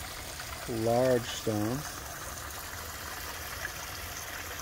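Five small waterfalls spill into a stone-rimmed pond in a Japanese garden, giving a steady, soft, continuous trickle and splash, briefly under a voice near the start.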